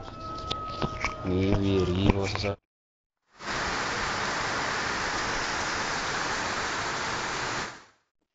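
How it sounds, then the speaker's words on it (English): Rain falls in Kenya as a dense, steady hiss of even noise lasting several seconds, following a short stretch of other sounds and a brief silence. "the rain is here with us"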